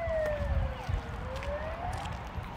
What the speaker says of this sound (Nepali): एम्बुलेन्स